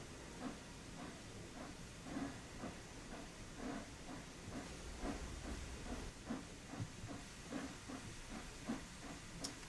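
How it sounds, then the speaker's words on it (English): Flying Scotsman steam locomotive in Train Sim World 4, sounding a sustained hiss under repeated rhythmic chuffs that pulse evenly throughout, with low rumble beneath. "Because these steam engines are quite loud."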